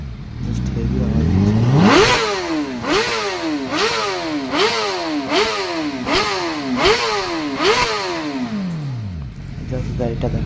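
A motorcycle at the Dankuni toll plaza revs hard about seven times in a steady rhythm, each loud, close blip of the engine rising and dropping before a final slow wind-down, with crowd noise beneath.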